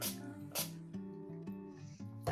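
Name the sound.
leave-in conditioner spray sprayed on hair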